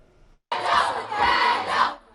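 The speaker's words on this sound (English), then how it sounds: "Crowds of students gathered screaming her name." College students in a crowd chant and scream Kendall Jenner's name in loud rhythmic surges, a dense group roar lasting under two seconds after a moment of quiet.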